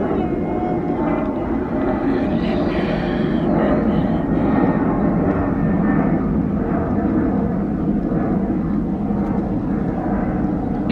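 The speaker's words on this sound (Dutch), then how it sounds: "er komt echt net een vliegtuig aan" Airplane passing overhead with a loud, sustained low roar that fills the whole stretch, steady and unbroken, with faint traces of voices underneath.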